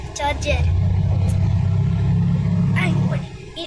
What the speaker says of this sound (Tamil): இன்னும் ஒன்று போகுது, ரெண்டுமே போகுது. ஒன்று பென்ஸு, ஒன்று சார்ஜரு.